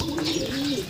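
A Heremans-line breeder pigeon coos close by, a low soft rolling call heard clearly in a short burst with faint background noise.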